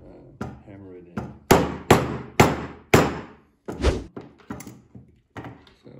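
A hammer driving a grooved part into a custom-built airsoft M4, about a dozen sharp metallic knocks in an uneven rhythm, close and loud, with some blows heavier than others.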